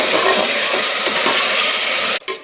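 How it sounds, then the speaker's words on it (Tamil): Mutton sautés in oil with ginger and garlic for a Chettinad mutton kulambu, giving a loud, constant hissing sizzle up close that dips briefly near the end before returning. "மட்டனை இதோட சேர்த்துக்கலாம். இதை எண்ணெயிலே நல்லா வதக்கிக்கலாம்."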